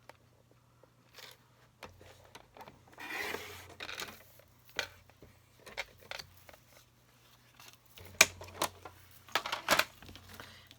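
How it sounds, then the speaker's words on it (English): Scissors or a paper cutter slicing cardstock for a handmade flower pot card, with soft rubbing and snipping sounds in scattered bursts and a sharper pair of cuts near the end, close and fairly quiet. "So I'm just going to cut it at 2 1/2. And then I'll turn it and cut it at 4 1/2."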